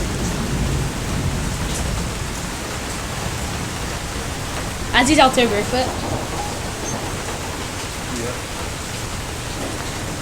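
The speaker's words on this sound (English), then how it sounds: "It's raining pretty damn good." Heavy rain pours down in Reno, a loud, steady hiss of water that fills the whole stretch, with someone speaking briefly about halfway through.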